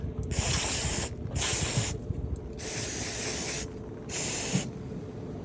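Four short hissing bursts of throttle body cleaner sprayed onto the throttle body of a 2019 Chevrolet Malibu with the GM 1.5-liter engine, each blast about a second long with brief pauses between, close and fairly loud.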